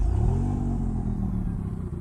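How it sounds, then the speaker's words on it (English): A 2022 Maserati MC20 engine, remote started from the key fob, rumbles steadily at idle, low and throaty, close by with a slight roughness throughout. "you can actually remote start the Maserati's engine from the key fob"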